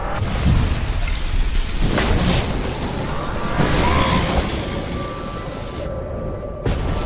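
A lightning spell cast in the Waltz of the Wizard VR game roars with thunderous, crackling rumbles, several loud bursts rolling one into the next before cutting off near the end.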